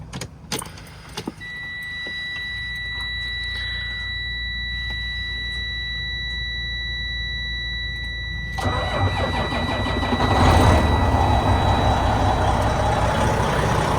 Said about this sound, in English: Now let's start her up.